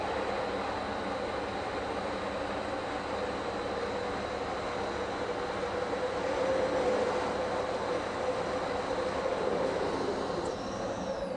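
An OMAX waterjet machine cutting a part gives off a loud, steady, continuous hiss and roar close by, with a thin constant whine over it and no break until the very end.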